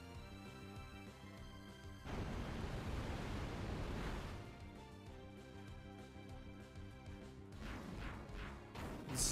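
A Pokémon Surf move wave effect from a video game crashes as a broad rush of surf-like noise, swelling and receding over several seconds with a tonal game sound layered underneath.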